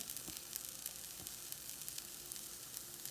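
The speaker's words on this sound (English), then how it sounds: "We're going to let this cook for a couple of minutes." Steady, gentle sizzling of an omelette with Italian truffle cheese frying in a pan, a soft continuous crackle with small pops scattered throughout, heard alone with no talking.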